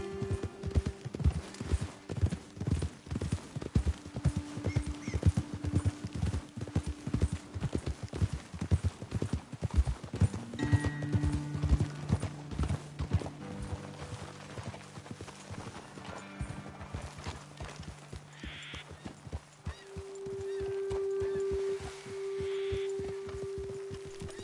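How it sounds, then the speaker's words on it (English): Horse hooves clip-clop in a fast, steady rhythm through a video game scene, running for about twenty seconds with sustained musical tones underneath, then slowing and fading as the animals stop, with a brief whinny near the end. "Okay, let's dismount here. Best leave the horses back a bit."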